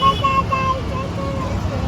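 A car pulls up on a busy road amid steady traffic rumble and a short horn toot, with people talking over the noise nearby.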